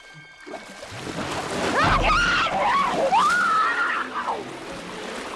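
Water splashes and sloshes up close as a girl is dragged under in the film Jaws, with frantic churning, choked, strained vocal cries, and a final gurgling surge.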